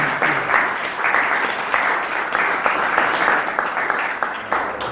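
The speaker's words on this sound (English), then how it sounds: "let's proceed with applause" Audience applause fills a conference hall at a corporate learning-day event, a steady, dense clapping from a sizeable crowd that holds at an even level for the whole stretch with no voices over it.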